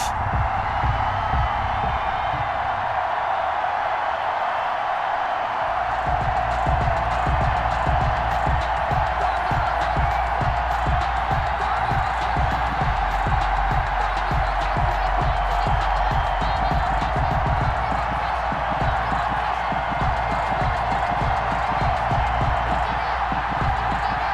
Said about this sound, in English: a moment ago they entered to the delight of this sold-out crowd